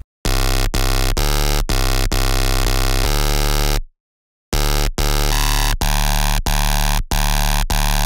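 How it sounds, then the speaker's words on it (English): Gritty, heavily distorted sustain bass patch built in the Serum synth, blaring as loud, buzzy chopped notes in a rhythmic pattern with a brief silent gap midway. "that's how you make a really sick, gritty sustain bass in Serum"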